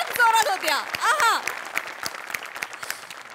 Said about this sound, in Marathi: आणि निर्मिती ताईंसाठी या स्पेशल वाला टाळ्या